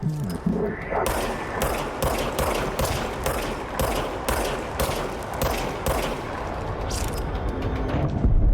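Rapid bursts of gunfire in the video game Control, set in the Oldest House, with a dense run of loud, closely spaced shots over about eight seconds and heavy low rumble building toward the end.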